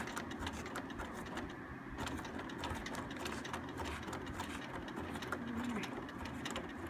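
A sewing machine runs steadily, stitching a quilt circle onto its background fabric, its rapid mechanical whir constant and close, with no talking.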